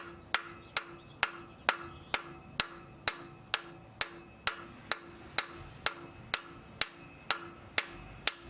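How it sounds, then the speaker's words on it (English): A 17 socket is tapped against the rear main seal of an Acura RSX Type S during clutch replacement, giving about eighteen sharp metallic knocks in a steady, even rhythm, close and fairly loud, with no talking. "I'm gonna take the 17 socket, because it fits right on there, and tap it gently."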